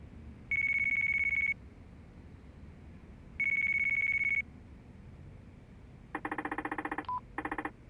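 Phone sounds in the video game Yakuza 4: two long, steady ringback tones with a pause between them, then a quick burst of dialing beeps, all clean and close with no talk.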